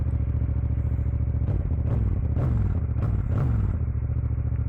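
A Yamaha FZ-07 with a parallel-twin engine and a 270-degree crank idles steadily with a low, throbbing, uneven beat, close up, with a few light clattering knocks partway through.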